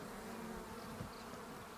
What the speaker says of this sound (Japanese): 巣門の前に陣取って蜂たちが餌を集めて帰ってくる時の様子